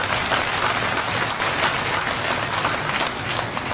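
Applause from a large crowd in a pandal during a Hindu religious discourse, a dense rain-like roar of clapping that is loud and continuous throughout.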